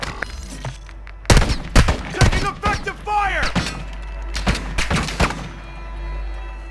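Sniper rifle shots and heavy gunfire in Call of Duty: Warzone 2, loud sharp cracks with booming echoes spread over several seconds, mixed with other battle sounds and a player talking.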